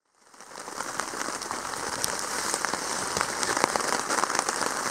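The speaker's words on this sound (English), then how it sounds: "Third night in a row with rain." Steady rain falls on a lakeside campsite in the Boundary Waters wilderness at night, a dense, even patter that rises within the first half-second and then holds at moderate loudness with scattered sharper drops and no voices.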